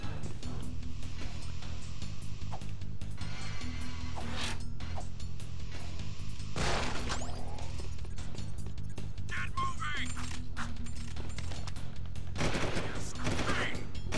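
Gunfire rattles in the video game Jak II, with rapid bursts of shots and mechanical weapon sounds over a dense, continuous game soundtrack during a frantic firefight.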